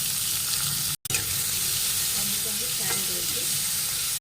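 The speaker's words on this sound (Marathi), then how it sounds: "इथे आपण आता तेल टाकून घेऊया। मोहरी टाकली, कढीपत्ता, 2 कांदे कापून घेतले ते टाकले" Chopped onions frying in hot oil with mustard seeds and curry leaves, a steady broad sizzle with light stirring, close and continuous, broken by one brief cut near the start.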